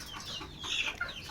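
Desi hens kept on a home balcony cluck softly in short, scattered bursts, faint and a little distant against light background noise.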